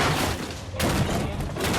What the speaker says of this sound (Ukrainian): Все, вибухнуло.